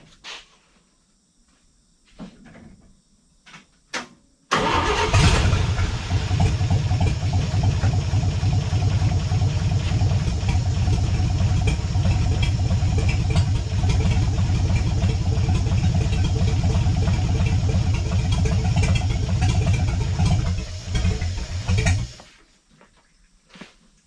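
A 1954 Chevrolet Bel Air engine cranks briefly, catches and settles into a steady, loud idle that runs evenly for about eighteen seconds before shutting off into quiet.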